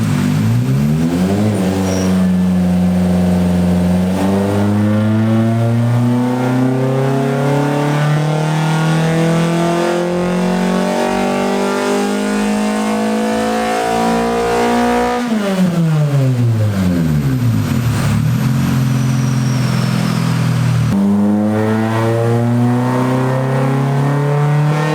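A K24-swapped EK Civic hatchback screaming through full-throttle pulls on a dyno, its engine note climbing steadily to high revs, dropping off, then rising again in a second pull, very loud and close.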